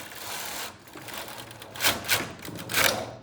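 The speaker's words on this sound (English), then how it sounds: "So first I'm gonna rack this way one." Silver Reed knitting machine bed being racked, giving a few quick mechanical clacks and clicks near the end, over a steady faint background whirr.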